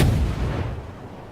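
A single cruiser cannon shot in World of Warships booms loud and close at the start, then its deep rumble fades out over about a second.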